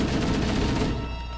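Dense, continuous weapon fire in Halo: Combat Evolved, a brief loud rattling stream of shots that thins slightly toward the end.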